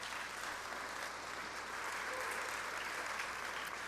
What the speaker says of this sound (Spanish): denle un aplauso por eso al Señor